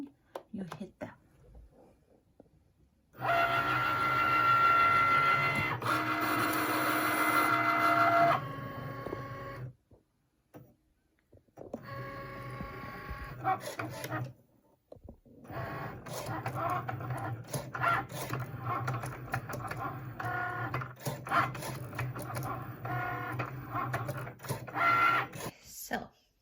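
A Cricut machine cuts a design for decorating a store-bought canvas Easter bag. It whirs and buzzes in stop-start stretches, with a loud opening run, short pauses and clicks, and a voice talking briefly between passes.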